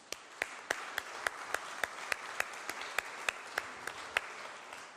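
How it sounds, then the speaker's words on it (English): An audience at a Pennsylvania Senate Majority Policy Committee hearing on school property tax reform applauds the senators, a steady wash of clapping with a few sharper claps cutting through at a regular beat. "I think they deserve a round of applause"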